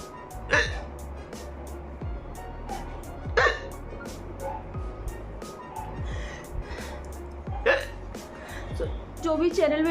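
Repeated sharp hiccups from a woman, four or five distinct jolts spaced a couple of seconds apart, close and fairly loud over a steady low background hum.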